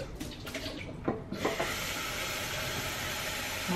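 Water runs steadily from a tap or is poured into a pot while tilapia sinigang is being cooked, a continuous rushing splash with a few brief clatters early on and no talking.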